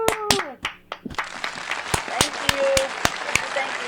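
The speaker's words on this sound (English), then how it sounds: "Give him some applause." A small audience on an interview talk show claps in short, scattered bursts of a few hands, fairly close, with a voice cheering over it.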